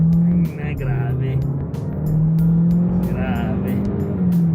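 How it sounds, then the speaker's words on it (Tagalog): A Changan car's exhaust rumbles loudly and up close, holding a steady drone with rises and dips in pitch, while people talk briefly over it. "Ito na yung exhaust clip ha."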